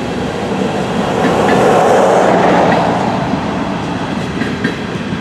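A freight train carrying semi-trailers rolls steadily along the track nearby, a loud continuous rumble with faint wheel clatter and a brief squeal near the end, no voices.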